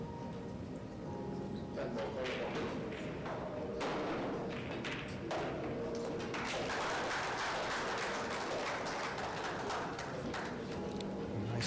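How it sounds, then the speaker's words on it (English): A crowd applauds at a Pro Billiard Series match in Jacksonville, with dense, steady clapping from a hall audience that holds and swells across the whole stretch. "Nice healthy applause from the crowd that's building up"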